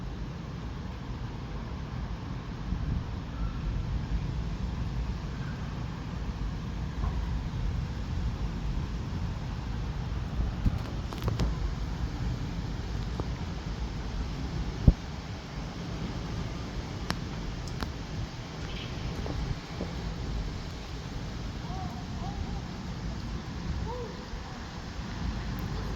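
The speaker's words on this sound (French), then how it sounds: "Oh le vent." Strong gusting wind during a violent thunderstorm in Bordeaux, a steady broadband roar buffeting the microphone throughout, with occasional sharp knocks and crackles and no speech.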